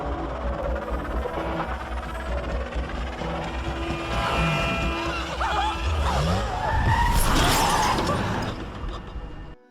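Tires skid loudly as a truck swerves and nearly strikes a woman, a long screeching slide with rumbling engine noise that swells toward the end, set in dramatic film action.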